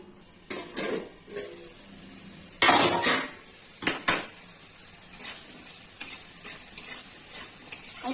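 Potatoes fry in oil in a pan for a cabbage and soybean dish, with a quiet sizzle beneath repeated sharp clinks and scrapes of a spatula stirring against the metal.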